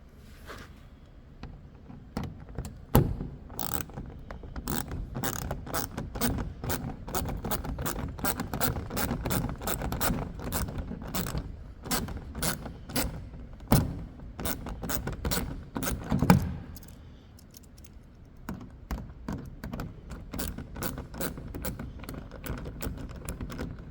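Screws are being undone beneath a Ford Mustang S650 during a rear fog light install, giving quiet, close, rapid clicking and ratcheting taps in irregular bursts. A short pause falls near the end.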